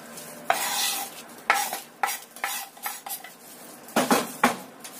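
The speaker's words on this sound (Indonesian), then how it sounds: "Kita aduk lagi sampai semuanya tercampur rata." A spoon stirs a tofu snack mixture with garlic, scallion and chili in a metal pan, with several distinct scraping and clanking strokes over a faint sizzle, no talking.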